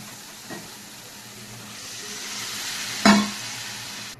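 Spiced potatoes for aloo dum fry and sizzle in a pan with a steady hiss. Near the end, water poured in sets off a sudden loud burst of sizzling that quickly fades back.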